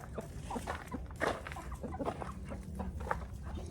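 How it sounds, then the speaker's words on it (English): Chickens in a backyard chicken pen on a small farm give off scattered clucks and short calls, close by and moderately loud over a steady low rumble of background noise, with no talk. "these are my chickens in here."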